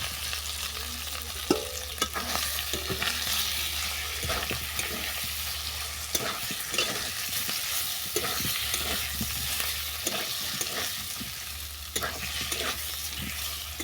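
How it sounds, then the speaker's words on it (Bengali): Spice paste with potato and pumpkin is stir-fried in a pan, a steady sizzle with repeated spatula scrapes and clinks throughout, close and alone. "আবারও আমি মশলাটাকে আলু কুমড়োর সঙ্গে ভালো করে কষিয়ে নিচ্ছি।"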